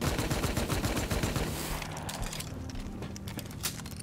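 Rapid gunfire from a Rust shotgun loaded with incendiary ammo, a dense burst of loud blasts in the first second and a half, then scattered quieter shots and a lingering hum.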